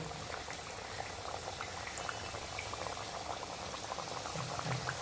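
Onion kachoris fry slowly in hot oil, a steady, quiet bubbling sizzle that continues evenly throughout with no talking.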